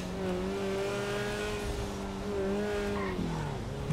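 A 2019 McLaren Senna supercar racing in GTA 5, its engine holding a loud, steady high-pitched drone with rising and falling revs, closing with a brief shift in pitch like tires squealing.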